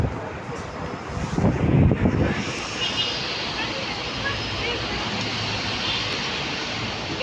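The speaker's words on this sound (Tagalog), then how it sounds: "Grabe ang lakas ng hangin." Strong wind roars across a bridge in Kuwait, a broad rushing noise buffeting the microphone continuously, swelling briefly early on, while someone talks over it.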